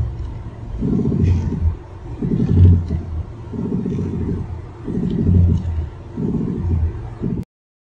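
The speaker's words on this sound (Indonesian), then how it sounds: "suara lain yang dapat terdengar dari dalam mobil saat mengoperasikan roda kemudi" Rhythmic low rumbling throbs from a car's steering joint vibrating as the wheel is turned, pulsing in about six even waves, heard from inside the cabin without talk.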